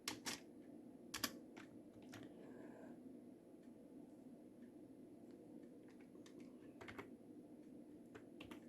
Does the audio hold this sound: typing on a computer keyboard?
yes